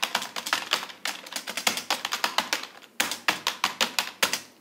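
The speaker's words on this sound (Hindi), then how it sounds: "वहां पर आपको सिर्फ टाइपिंग की जो आवाज़ है, कीबोर्ड की जो आवाज़ है वही सुनाई देगी" Computer keyboards are typed on in an exam hall: rapid, close, crisp keystroke bursts in quick rhythmic runs with short pauses, and no voices.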